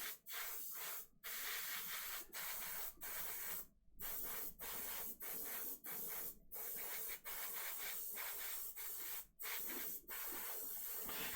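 An airbrush or spray can mists paint onto a Slaanesh miniature in repeated hissing bursts of a second or two, separated by short silent gaps, close and fairly quiet.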